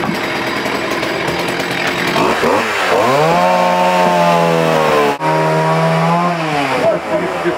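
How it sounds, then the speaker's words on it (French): A chainsaw revs hard and steady while cutting burnt wood during cleanup after a fire at a town hall, with its engine pitch dropping and holding low under load, then briefly cutting out before roaring again, close and loud throughout. "Attaquer le travail à la tronçonneuse."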